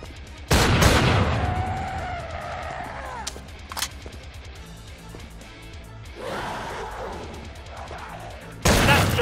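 Gunfire in Killing Floor 2 in a parking garage, with a few loud sharp shots and bursts spaced across the stretch amid game noise and effects.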